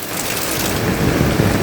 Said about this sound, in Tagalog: Talaga ulan lang ang dinadanas dito